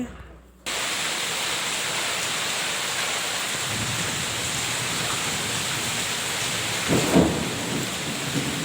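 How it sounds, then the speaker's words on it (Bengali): Heavy rain pours in a steady, loud, broadband hiss during a windy storm. A brief deeper rumble of thunder swells near the end. "যেমন হাওয়া হচ্ছে তেমনও বৃষ্টি আর মেঘ ডাকছে"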